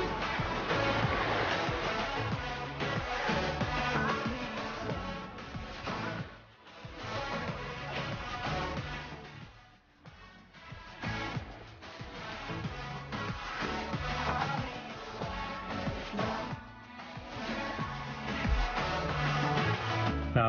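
Sea waves at Kini beach on the Greek island of Syros roll and wash in a continuous rushing surge, swelling and easing in slow cycles with a few brief dips, moderately loud and close.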